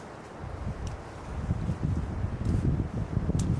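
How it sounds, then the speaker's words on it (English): Wind buffets the microphone at a campsite during a stormy spell, a low rumbling roar that grows louder over a few seconds, with no talking. "it's still a bit windy, as you can probably tell"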